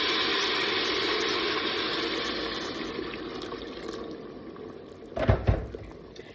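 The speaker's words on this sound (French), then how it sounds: "moi, j'ai toujours mis de l'eau bouillante." Boiling water poured into a Cookeo multicooker, a steady rushing stream that fades gradually before a few louder splashes and knocks near the end.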